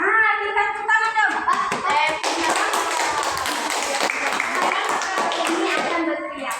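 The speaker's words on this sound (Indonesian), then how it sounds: "Kita tepuk tangan dong" A children's Palm Sunday catechesis audience bursts into clapping, a dense sustained patter of many hands after a brief moment of speech and voices at the start.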